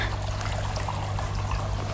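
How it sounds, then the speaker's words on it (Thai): Water from a small waterfall trickles steadily and close by on a cold, sunny day, a continuous bubbling splash with no voices. "เสียงน้ำตกน้อย"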